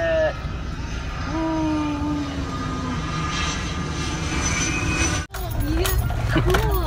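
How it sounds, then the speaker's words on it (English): A fixed-wing airplane drones overhead outdoors with a steady, moderately loud engine roar that holds for several seconds, with people talking nearby and a sharp handling bump near the end. "Oh, it's a plane."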